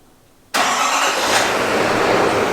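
A GMC Sierra 2500 AT4X pickup engine bursts on after a short silence and holds a steady, loud broadband roar through the rest of the moment, with no voices over it.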